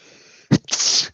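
One person sneezes once, a short sharp burst followed by a breathy trailing exhale, close and clear against a quiet room.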